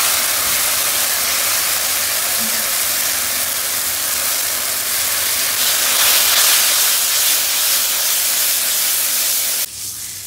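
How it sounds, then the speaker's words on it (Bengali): Ground pointed gourd seed paste sizzles in hot oil with onion, ginger and garlic, a loud, steady, dense frying hiss that swells slightly midway and drops abruptly near the end. "এটাকেও ভালো করে ভেজে নেব।"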